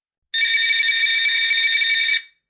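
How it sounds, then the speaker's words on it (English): A telephone rings as a dramatized sound effect after dialing, one steady electronic ringing tone about two seconds long, clear and close, starting and stopping abruptly with silence around it. "grabbed her phone and began dialing"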